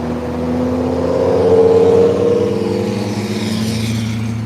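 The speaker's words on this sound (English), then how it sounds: "Traffic is so damn loud here." Loud road traffic near a mall, a continuous engine rumble swelling as a vehicle passes close by, then easing off, with no talk over it.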